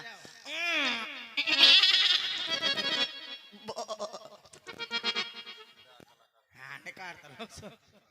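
A man imitates a goat with wavering, nasal bleats in a sequence of bursts at a village Ramlila comedy stage show, with laughter and other voices mixed in.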